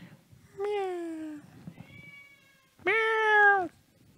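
A cat meows twice, two long clear drawn-out cries with a short gap between, close and loud over faint room noise, with a person talking quietly in the background.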